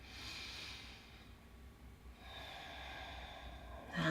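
Soft, slow breathing during a yoga pose: a quiet inhale and exhale, close and faint, with no talking.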